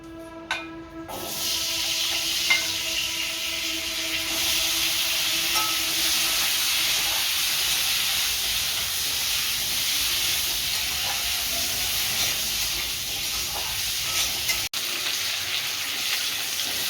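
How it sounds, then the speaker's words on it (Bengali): Potatoes fry in oil in a pan with a loud, steady sizzle and hiss lasting throughout, close by, a few faint clinks and a brief thump near the end, no talk. "এই তেলে আলুটাও ভেজে নেব।"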